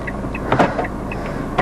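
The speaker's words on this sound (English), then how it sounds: "we can lock the car by pressing this button, and the car locks itself" A Ford Fiesta SXi's central locking engages from inside the car, giving a short mechanical clunk and whirr with a few brief clicks, heard close.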